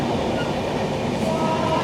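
The Kerala Express runs along the Kazipet bypass, a loud, steady rumble of wheels and carriages heard from on board, continuous and close with faint rhythmic clatter.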